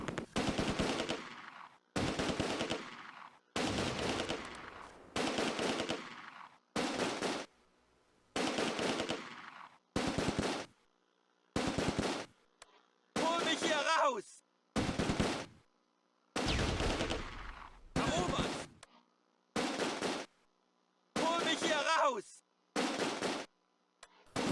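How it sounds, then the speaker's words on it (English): Machine gun fire from a World War II tactical game set around the Groesbeek landing zone during Operation Market Garden: repeated loud bursts of rapid automatic fire separated by short silences. Some bursts are tight and close, while others sound more scattered. "My medium machine gun continues to target the 1st MG42 squad."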